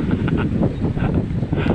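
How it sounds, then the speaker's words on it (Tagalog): Strong gusting wind buffeting the microphone, a loud continuous roar with rustling, no voices. "lakas po ng hangin. Tinatangay po, tumbag po ito, tinatangay po"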